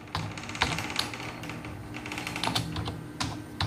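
Rapid clicking keystrokes on a computer keyboard as a command is entered, steady close-up tapping with irregular bursts and brief pauses, no voice over it.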